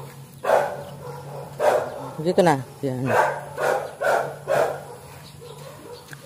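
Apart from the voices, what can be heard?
dogs barking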